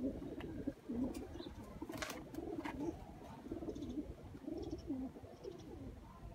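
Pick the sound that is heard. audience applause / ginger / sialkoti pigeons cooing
sialkoti pigeons cooing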